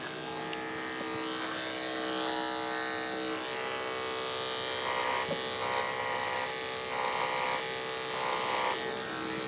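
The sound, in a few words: electric clippers trimming a horse's tail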